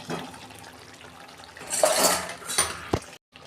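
Fried jyoti potatoes being added to a pot of chicken curry, with a few metallic clinks and scrapes of utensils against cookware, brief and close, ending abruptly.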